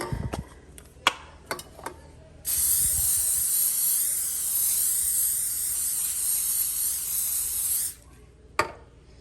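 A steady cooking oil spray hisses for about five seconds after a few light taps and clicks, ending with another soft knock.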